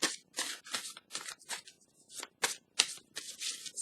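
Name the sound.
shuffling tarot cards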